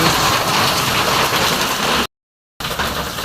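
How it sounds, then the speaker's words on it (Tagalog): Heavy rain pours outside during a flood, a dense, loud, constant hiss of drops striking surfaces, broken by a short cut to silence before the downpour resumes. "sa lakas ng ulan, malamang ibahanan na sa labas"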